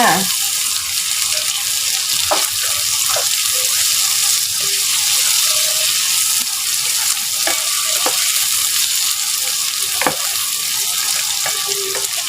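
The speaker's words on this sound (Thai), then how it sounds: "ผัดรวมกันเลยค่ะ ตามด้วยกุ้งเลยค่ะ" Shrimp with chili and salt stir-fry in a hot pan, giving a steady, loud sizzle broken by sharp clinks of a spatula stirring, with someone speaking now and then.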